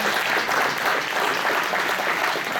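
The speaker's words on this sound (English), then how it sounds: "I guess I'm going to send that applause on to him" Steady, dense applause from a concert audience at an evening show, an even wash of many hands clapping, sustained and fairly loud throughout with no talking over it.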